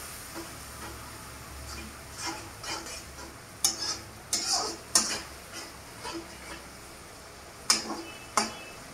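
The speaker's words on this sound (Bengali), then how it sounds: "এবার আমি এটাকে মশলাটাকে মিশিয়ে নেব।" Garam masala and turmeric powder being stirred in a pan while cooking cauliflower, egg and potato, heard as soft irregular scraping and light ticking taps of a spoon against the pan, with a few sharper clinks.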